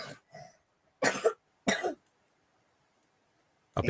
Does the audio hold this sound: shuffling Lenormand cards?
no